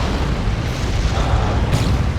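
A Land Raider tank drops onto the battlefield in a Dawn of War 2 multiplayer match, landing as a loud, sustained rumbling boom with heavy low-end roar, ending in a brighter burst.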